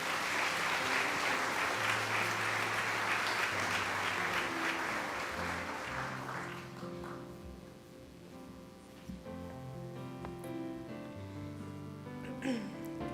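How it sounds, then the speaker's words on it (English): An audience at a cotillion winter ball applauds the young members with warm, steady clapping that fades after about six seconds. Soft piano or organ music carries on underneath and continues alone. "Let's please give all of these young people a warm round of applause"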